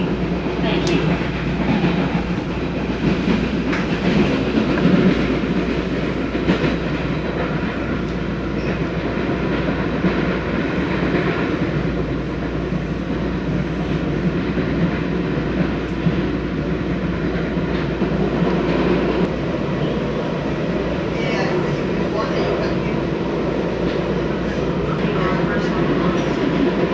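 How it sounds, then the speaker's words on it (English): A Miami Metrorail train runs loudly on its tracks, with a continuous heavy rumble and rattle of wheels and rails filling the whole stretch, steady and close as if heard from inside the car. "See the difference already, how much louder these tracks are compared to Brightline?"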